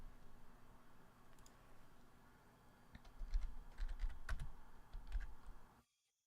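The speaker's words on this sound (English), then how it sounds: "I'll type it." Keys clatter on a computer keyboard in a short, irregular run of quiet clicks, growing busier midway before stopping abruptly, with no talking.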